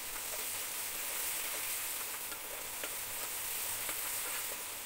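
Chopped tomatoes with salt sizzle steadily in a pan for dal tadka, a continuous close hissing fry with faint scraping stirs of a spoon now and then.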